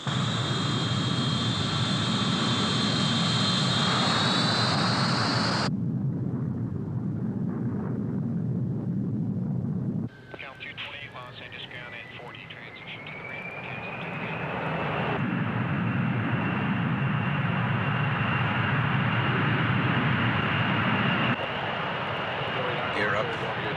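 A jet airliner takes off with a loud, sustained roar of its engines. A high whine sweeps upward as thrust builds, then a broadband rush carries on to the end.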